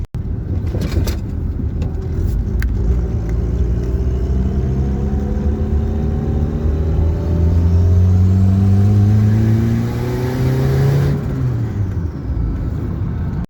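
A turbocharged car fitted with an eBay turbo kit runs loud and close, its engine note climbing steadily through a long pull before dropping back to a steady idle-like rumble, with no talking.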